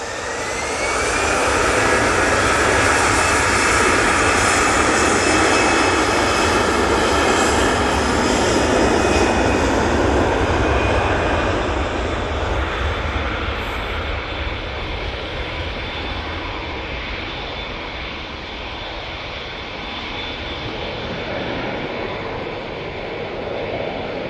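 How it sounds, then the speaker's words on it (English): EasyJet Airbus A320-200 jet airliner departing Manchester Airport, a loud, broad jet-engine roar with a whining tone that holds strong, then slowly recedes into the distance, with no talking. "EasyJet A320-200 is off to Thessaloniki."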